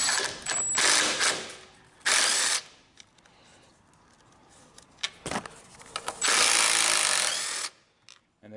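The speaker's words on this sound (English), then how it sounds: "If you're using a ratchet or something," A ratchet backs out blue Loctite-treated screws from the air box of a Briggs and Stratton engine, loud close ratcheting in several bursts separated by quieter pauses with faint handling noises.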